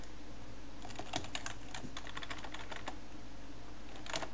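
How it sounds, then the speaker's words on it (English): Typing on a computer keyboard while writing a C++ program, a steady run of close, crisp key clicks with brief pauses and a few quick bursts near the end. "Now type Spanish"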